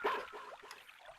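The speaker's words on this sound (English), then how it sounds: "That's Boney barking!" Boney the dog barks in the Mother 3 video game: a short burst of yelping game barks at the start, then softer whimpering tones trailing off over a faint watery trickle.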